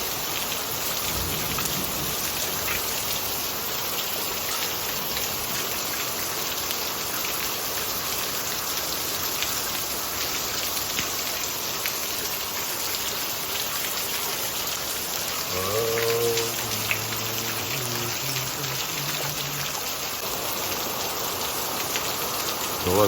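Heavy, steady rain at 2 a.m. in a village with no wind, pouring evenly as a dense, continuous hiss of drops on surfaces for the whole stretch, broken by a brief low tonal sound partway through.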